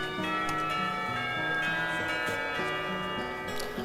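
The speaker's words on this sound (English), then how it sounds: "The sound of the carillon bells takes me completely by surprise as I stand up" Carillon bells ring out in the visual novel Katawa Shoujo, a sequence of overlapping pitched chimes stepping up and down in a melodic pattern with a bright metallic ring, loud and continuous.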